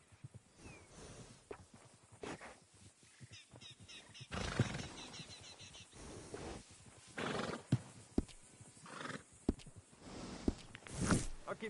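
Horses whinny and snort several times in Red Dead Redemption 2, loud and close, with hooves clopping and shuffling in between.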